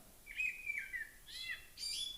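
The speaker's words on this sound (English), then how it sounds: "It's a bird." A single bird sings three or four bright, sweeping chirps in quick succession, each a clear whistled call rising and falling, close and isolated against faint background hiss.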